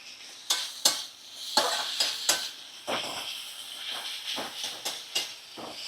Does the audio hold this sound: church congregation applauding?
no